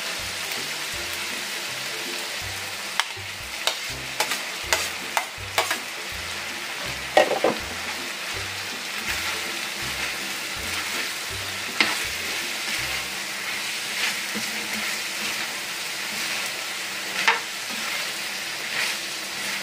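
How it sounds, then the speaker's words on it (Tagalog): Mushrooms sizzling and frying in a pan for a creamy chicken dish, a steady hiss with regular scraping stirs and occasional sharp spatters, close and continuous without talk. "Lagay na natin ang mushroom."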